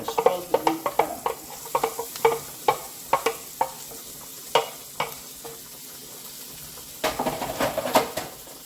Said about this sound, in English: I'm going to add our vegetables that we cut up.